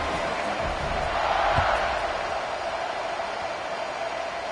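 Stadium crowd noise from the NCAA 25 football game forms a steady, broad roar that swells briefly in the middle, with faint commentary-like voice mixed in.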